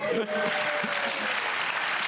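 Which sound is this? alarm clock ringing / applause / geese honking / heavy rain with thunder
applause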